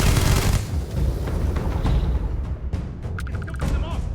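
Video game gunfire in Starfield, a dense continuous barrage of shots and booms from the start, then sharper single shots and impacts, loud throughout.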